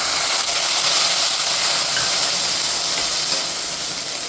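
Ginger fries in a pan for allam pachadi, a steady broadband sizzling hiss heard up close that holds constant throughout with no talking.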